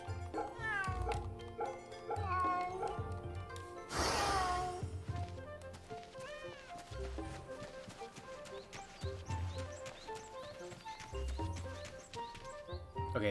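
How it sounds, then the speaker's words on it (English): A cat being petted in Fate/Remnant meows several times over continuous game music and effects, the meows moderately loud and mixed into the busy soundtrack. "we're gonna pet the cat, Saber."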